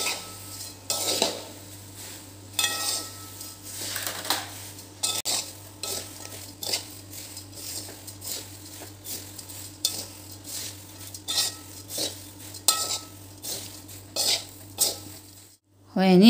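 A spoon stirs papad pauva in a pan, scraping and clinking against the metal in steady repeated strokes, close and clear, with a low steady hum underneath and a louder clatter at the very end.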